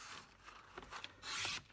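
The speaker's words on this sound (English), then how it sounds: "So I'm going to cut them both out" Scissors cutting through paper card pieces for a handmade card, close and soft, with short rasping snips and a longer sustained cut near the end, no voices.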